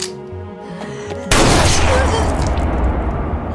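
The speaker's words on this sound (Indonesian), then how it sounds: "Ichiro keluar dari bis dan langsung menembak Midorikawa" A sudden loud burst of gunfire from a film erupts after a stretch of music and dramatic narration, then sustains as a dense, noisy roar of shots and booms to the end.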